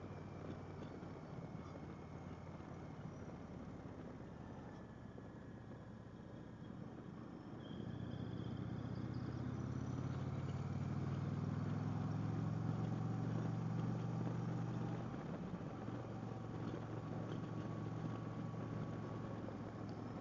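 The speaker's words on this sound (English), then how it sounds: "The engine does sound good." A 2024 Indian Pursuit motorcycle engine running at a steady drone, its low rumble swelling louder midway as it revs up, under faint wind noise.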